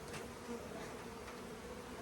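Honey bees from a laying worker colony buzz in a steady, dense drone close by, with no voices.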